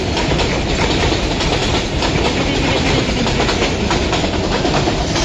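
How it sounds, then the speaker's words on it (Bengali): A long train rolls past close by, its loud, continuous rumble and rapid clickety-clack of wheels on rails filling the whole stretch without pause. "অনেক বড় ট্রেন আসলো, ডিকি ডিকি,"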